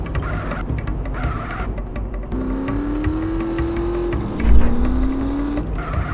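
A car drives in GTA MTA roleplay, engine droning steadily and then rising in pitch as it accelerates, with a brief louder thump near the end and no talk.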